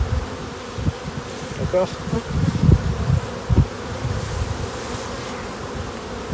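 Honeybees hum and buzz close by in a dense, droning swarm around a hive full of brood, with soft bumps and handling noises; a voice speaks briefly.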